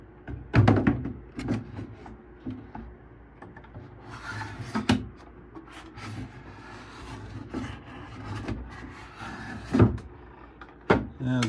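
A wooden drawer rubs and slides into an old heirloom dresser under restoration, with scraping wood friction, several sharp knocks and thunks as it seats, close and fairly loud, while a person talks at times.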